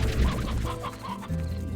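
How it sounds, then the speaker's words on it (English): Chicken clucking in a run of short repeated clucks, fairly close and loud, standing beside an enclosure that keeps exploding in a video game, with a low rumbling background underneath. "It's a brave chicken."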